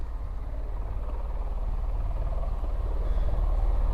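Steady, even whir of a V-22 Osprey tiltrotor's rotor turning before takeoff, a constant low drone at a distance with no break or change in level.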